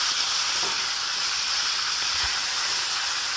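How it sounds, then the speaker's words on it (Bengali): Fish heads fry in hot oil with a steady, loud, broadband hiss and sizzle that runs unbroken throughout, close up and with no talking. "উল্টিয়ে পাল্টে আমি এইভাবে আমি মাছের মাথাগুলো ভেজে নেব লাল লাল করে।"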